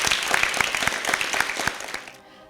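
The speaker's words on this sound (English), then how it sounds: "Let's give another loud round of applause for the schools who got this far" Audience applause for the schools eliminated from a school debating competition, a dense steady clatter of many hands that fades out toward the end.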